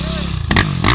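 A hard enduro motorcycle on a muddy, slippery trail in rain and cold, its engine droning loud and close with a brief rising rev, mixed with scraping clatter and a shout.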